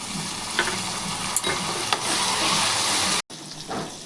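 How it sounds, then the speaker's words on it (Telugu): Steady sizzling of tomatoes and green chillies in a frying pan with a few stirring scrapes, briefly cutting out near the end before the frying resumes. "ఇప్పుడు టమాటాలు వేసుకుందామండి."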